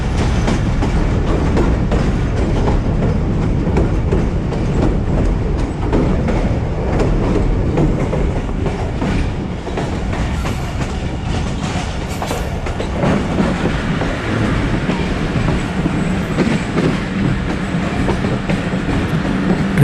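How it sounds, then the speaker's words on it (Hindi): The 130DN Thal Express train runs and slows on approach to Jhalar station, heard from aboard: a loud, continuous rumble with rhythmic clickety-clack of wheels over rail joints. "ट्रेन स्लो हो रही है झलार पे रुकने के लिए।"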